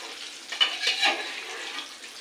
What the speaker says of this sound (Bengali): দেখো আমার তরকারি প্রায় কষানোটা হয়ে গিয়েছে এখন দিয়ে দিব আমি হালকা পরিমাণ জল